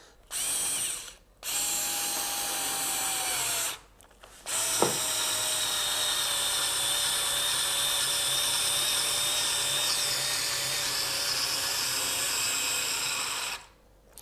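Cordless drill with an angle attachment driving a screw: a high whining motor run in short bursts, then a long sustained spin with pitch shifting under load, stopping abruptly at the end.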